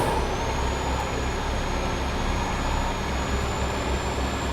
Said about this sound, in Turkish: Arabadan çıkan şu hava sesleri falan çok hoşuma gidiyor ya